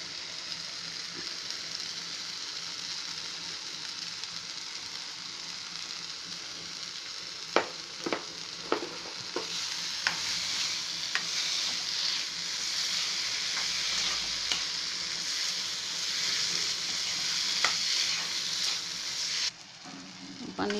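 Crumbled paneer sizzles steadily as it is stirred and fried in a pan, with scattered scraping knocks from the spoon and a brief dip in the hiss near the end.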